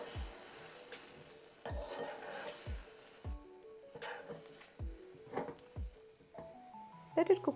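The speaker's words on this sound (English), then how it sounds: "Oil is hot. Now let's add the omelette mixture." Omelette mixture poured into hot oil in a pan, giving soft sizzling with repeated stirring and scraping strokes and light clinks of utensils against the pan.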